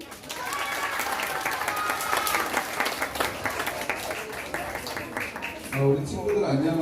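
Children and adults at a church winter Bible school event applaud together in a steady, dense round of clapping mixed with crowd noise, continuing for several seconds.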